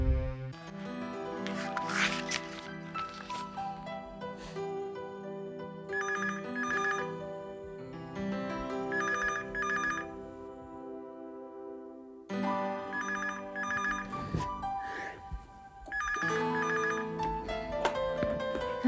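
A phone rings with a busy electronic ringtone, repeating in bursts with a short break partway through, close and fairly loud.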